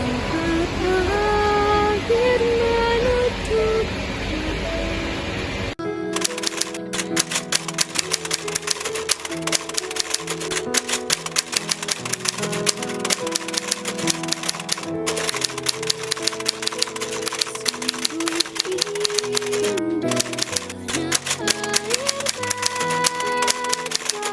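A manual typewriter types out the Indonesian proclamation text in a staged school drama about independence: rapid, loud, close keystrokes clatter steadily with a few brief pauses, after a short opening of musical tones.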